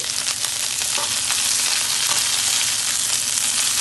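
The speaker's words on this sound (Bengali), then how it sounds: "আর এখন দিয়ে দিব লাল শাক। আর এখানে আমি একটু করে দিয়ে প্রথমে আমি একটু নেড়ে চেড়ে দিচ্ছি।" Red amaranth leaves (lal shak) fry with onion in a pan, a loud close sizzle with occasional scraping as they are stirred, steady throughout and free of speech.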